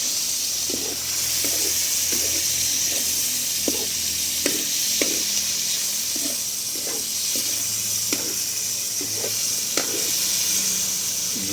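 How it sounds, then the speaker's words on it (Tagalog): Chicken pieces sautéing in a hot pan for tinola, a steady sizzle with repeated scraping stirs at a regular pace, close and moderately loud with no talk. "Maggisa muna tayo ng karni."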